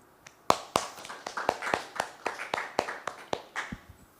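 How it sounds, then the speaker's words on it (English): Sparse, uneven clapping from a small audience at a programming conference talk, a dozen or so distinct hand claps spaced irregularly over a few seconds, fairly close and with no voices. "let's give our speaker one more round of applause"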